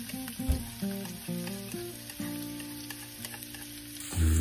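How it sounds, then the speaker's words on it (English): Onion cooking in butter in a pan sizzles and crackles up close beneath sustained tonal music, with a louder burst at the end. "First, we'll cut and cook an onion with some butter."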